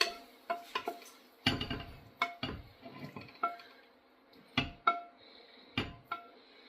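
Bacon pieces lifted out of a hot pan with a metal utensil while cooking turnip greens, heard as a run of sharp clinks and scrapes against the pan in an irregular rhythm, close and fairly quiet, with no talking.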